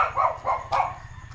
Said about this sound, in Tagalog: tahol ng tahol ang aso na may tali